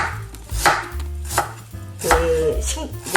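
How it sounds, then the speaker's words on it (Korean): Knife slicing ginger on a cutting board in a home kitchen, four or five firm, separate chops against the board, close and fairly loud, with a low background hum and no speech. "이거를 생강 편으로 썰어"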